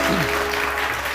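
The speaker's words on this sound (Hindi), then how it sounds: "अयाज के लिए बहुत सारी तालियां" Brief burst of studio audience applause on a television morning show, loud and dense from the start, with a faint voice briefly rising over it.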